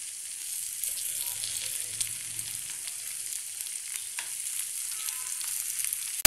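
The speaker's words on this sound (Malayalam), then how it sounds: "ഈ മസാലയിലൊക്കെ ഈ ചെമ്മീൻ കിടന്നിട്ട് നന്നായിട്ട് ഇതൊന്ന് ഫ്രൈ ആക്കി എടുക്കണം" Prawns fry in masala, Kerala style, with a dense, continuous bright sizzle and crackle from the pan, steady throughout with faint stirring scrapes underneath.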